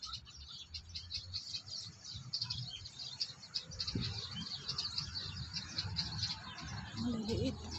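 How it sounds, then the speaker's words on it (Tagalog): Small birds chirp and tweet in quick, overlapping bursts over a steady outdoor hiss, with some low murmuring voices underneath. "Ayan yung mga ibon."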